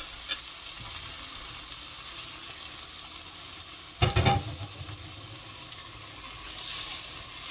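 Green onions fry in a pan with a continuous close sizzle, broken midway by a loud burst of stirring and scraping, then settle back into steady hissing.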